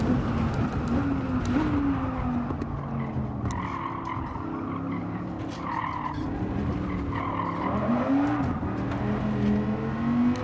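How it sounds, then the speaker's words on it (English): Stock car engine on sport medium tires in a racing video game, revving up and down through repeated throttle changes with tire squeal, loud and continuous with no talk. "This is a stock car with sport medium tires on."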